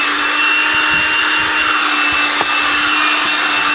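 An Electrolux handheld car vacuum cleaner runs with a steady, loud, whirring hiss as it cleans a car interior. The motor sounds close and constant, with small clicks and bumps from the nozzle.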